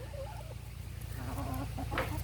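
A rooster and hens on a homestead clucking in short, close bursts over a low steady hum, faint and brief.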